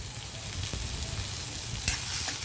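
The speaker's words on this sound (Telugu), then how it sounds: "పప్పులు కొంచెం వేగుతున్నాయి కదండి" Lentils frying in oil for ragi semiya upma, a steady, close sizzle with faint crackles and a brief stirring scrape, no talk.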